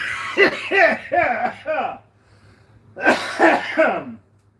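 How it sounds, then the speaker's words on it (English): Harsh, raspy coughing close by: a run of four quick hacks, a short pause, then another bout of several more. "stoner's cough"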